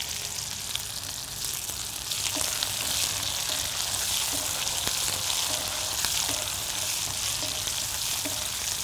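Onions and curry leaves fry in a pan for a kara kuzhambu, a loud, steady close sizzle with occasional light utensil taps.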